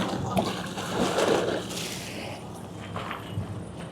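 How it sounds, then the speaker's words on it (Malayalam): Water splashes and sloshes up close at the Doha Corniche at night, a burst of splatter in the first couple of seconds before settling into a steadier watery wash. "അവിടെ കുറച്ച് നേരം ഇരുന്നപ്പോൾ എൻ്റെ ക്യാമറയിലേക്ക് വെള്ളം തെറിച്ചു."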